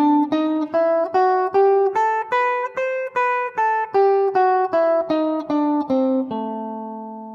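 Electric guitar playing a steady run of about fourteen evenly picked double stops drawn from a Dorian mode mixed with the blues scale, clear and alone, with the last pair left ringing out.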